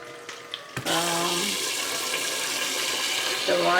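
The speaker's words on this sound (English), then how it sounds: "Now you wash this rice until it become clear, the water" Rice being washed under running water from a shower head, a steady full rush of spray over the grains that starts abruptly after a few faint clicks and continues unbroken, close by.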